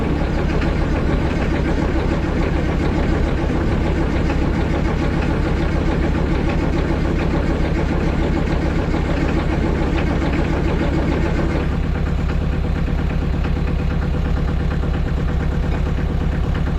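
An Allis-Chalmers tractor engine runs at a steady, loud idle for the whole stretch, a dense low rumble that shifts slightly in tone partway through.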